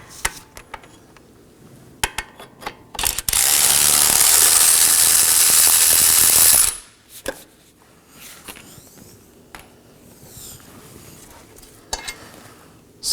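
Bolt being removed from the wheel bearing bracket of a 2018-2024 Chevrolet Equinox, a loud sustained power-tool whir lasting a few seconds between scattered metallic clicks and clanks, up close.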